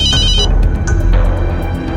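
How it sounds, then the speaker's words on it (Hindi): A telephone in an indoor drama scene rings loudly with bright, repeating electronic bell tones over a dense music bed, with no speech. "पेट्रोलिंग टीम का फोन था"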